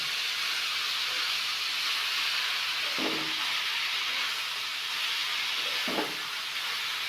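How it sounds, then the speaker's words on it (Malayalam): Grated coconut frying over high flame in a pan for chutney, producing a steady loud hiss and sizzle throughout, with two brief stirring scrapes partway through and no talking. "ഞങ്ങൾ ഫ്ലെയിം കൂട്ടി വെച്ച് നമ്മൾ തേങ്ങ ആഡ് ചെയ്ത് കഴിഞ്ഞിട്ടാണ് ജസ്റ്റ് ഒന്ന് ഇളക്കി കൊടുക്കാം"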